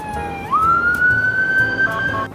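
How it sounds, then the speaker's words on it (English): A police car siren wails on a New York City street near the Brooklyn Bridge in DUMBO. It sweeps upward, then holds a loud, steady, close tone for about two seconds with no talking. "Plus the sound of the police sirens."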